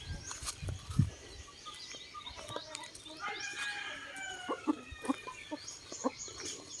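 A hen clucking on a chicken farm, soft scattered clucks and short calls at a distance, fairly faint over quiet outdoor background.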